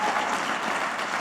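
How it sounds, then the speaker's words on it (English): Steady, dense applause from an audience at an education summit event, a continuous wash of clapping filling the whole short moment without pause. "I want everybody to give her a round of applause"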